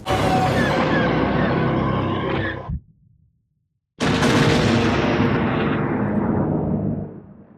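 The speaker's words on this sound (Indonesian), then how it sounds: "ini suaranya kayak ledakan plasma gitulah, ya science fiction explosion gitulah" Two big booming sci-fi plasma explosions with a bright, synthetic crackling tail, separated by a second of silence, each decaying slowly; loud and close.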